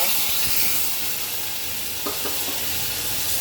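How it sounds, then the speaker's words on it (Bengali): Taro corms frying in oil in a pan as spices go in, a continuous loud sizzle with a few faint stirring clicks near the end. "কচুর মুখিটা খুব সুন্দর মতন ভাজা হয়ে গেছে এখন আমি মশলাগুলোটা দিয়ে দেব"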